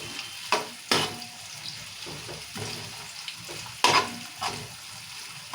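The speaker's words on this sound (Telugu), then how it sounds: "ఈ ఉల్లిగడ్డ మంచిగా వేగాలి ఇట్లా నెయ్యి నూనె వేసుకొని చేసుకుంటే బిర్యానీకి మస్తు టేస్ట్ వస్తుంది" Onions frying in ghee and oil, a low, steady sizzle broken by several sharp scraping stirs and clanks of a spoon against the pan, close and moderately loud.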